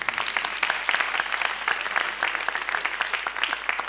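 Dense, steady applause from a large audience at a comedy show in Gabon, many hands clapping together continuously with no pauses.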